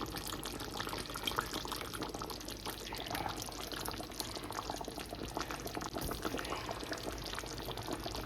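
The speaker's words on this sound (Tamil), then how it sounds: "இப்போ நாங்கள் இதுக்குள்ள வந்து கொஞ்சமாக பழப்புளி சேர்க்கிறோம்." Tamarind water is poured into a drumstick curry in a steady, even stream of liquid with a faint bubbling under it that continues throughout.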